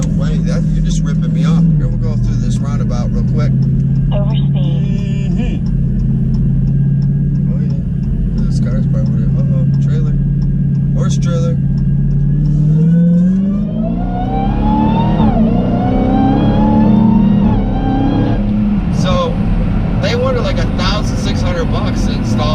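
A Dodge Challenger Hellcat's engine rumbles steadily as it rounds a roundabout, swelling into revving, accelerating bursts toward the end, heard beneath someone talking throughout.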